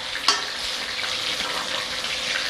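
Chilli chicken frying in hot oil, giving a loud, steady, close sizzle throughout with one brief sharp crackle near the start and no talk.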